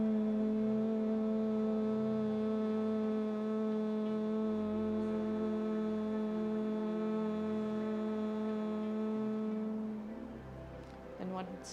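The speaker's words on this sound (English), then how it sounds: "we're going to end this practice with a humming deep breaths" A child's steady humming breath, made with hands over the ears during a morning yoga routine, holds one even tone for about ten seconds before fading into soft noise.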